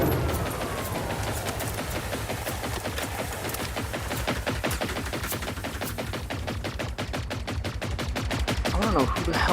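Gunfire in the video game Generation Zero blasts at a building in rapid, repeated bursts, dense and continuous, speeding into an even machine-gun rhythm near the end.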